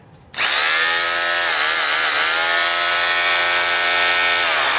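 A Makita HR2470X5 rotary hammer switched to chiseling mode starts suddenly and runs loud and steady, a dense buzzing whine with a fast hammering texture that holds without pause to the end.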